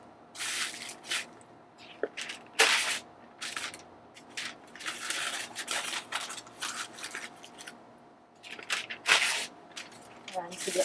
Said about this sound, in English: I'm going to take this papers from this magazine, and then I'm going to put it at the bottom of this pot